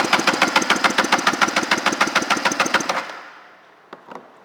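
A 770 engine from a 1999 Tigershark TS770L personal watercraft cranks over on the starter during a compression test, giving about fifteen even, rapid pulses that stop abruptly, followed by a couple of faint clicks.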